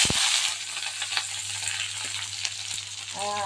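Shallots and green chilies frying with curry leaves in hot oil give a steady, close sizzle with a few brief clinks and bumps, and a short tonal hum near the end.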